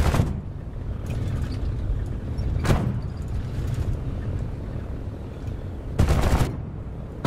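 Aircraft guns fire in short bursts during a War Thunder dogfight, flown in a Ki-100 fighter. The bursts crackle over a constant droning engine rumble, with a few distinct sharp volleys standing out.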